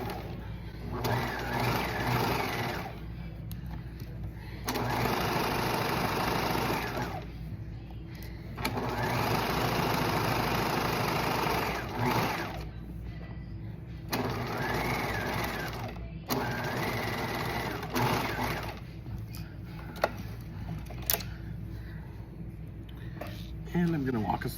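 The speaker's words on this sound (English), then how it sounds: "So putting my machine in, starting with a couple stitches," A sewing machine runs in steady stretches broken by brief pauses as it stitches a standard seam with back stitching, while a person talks over the whirring.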